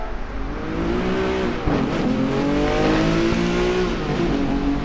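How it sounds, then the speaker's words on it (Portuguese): Lamborghini Diablo GT 6-litre V12 engine in GT Sport, mid-engine, rear-drive with a 5-speed manual gearbox, revving up and down through the gears on track, loud and continuous with rising and falling pitch. "Motor V12 Lamborghini. Esse é o V12 Lamborghini antigo."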